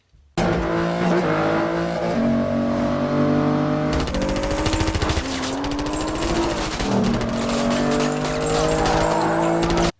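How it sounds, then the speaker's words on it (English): A car chase from a James Bond film roars continuously, with loud engines revving, tires squealing and skidding, and dense layered mechanical noise throughout. "The opening car chase could have been cool if it wasn't cut every single second."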